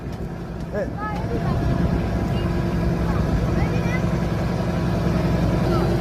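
Boat on the Turag river at the Tongi river port, a steady low engine drone that swells after the first second and holds, with voices and other background activity over it.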